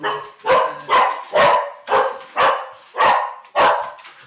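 A Bernedoodle puppy barks about eight times in a steady rhythm, each sharp yap close and loud with short gaps between.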